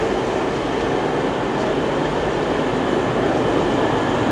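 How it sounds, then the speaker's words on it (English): A steady, heavy rumble of a train arriving at a station at close range, with a continuous low mechanical drone and no clear talk over it. "Right, this is our next train here."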